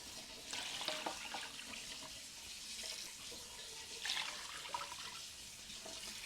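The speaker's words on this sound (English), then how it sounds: "We're going to put quite a bit of water in here to start with." Water pouring from a tap into a roaster packed with rabbit bones for broth, a steady close splashing gush that swells in two stronger bursts, with no voices.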